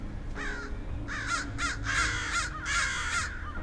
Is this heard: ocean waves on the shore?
no